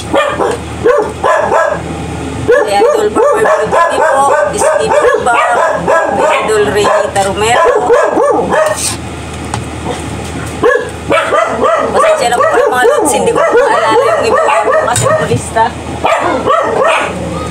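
Several dogs bark and yip almost continuously, loud and close, with a voice talking over the noisy commotion throughout.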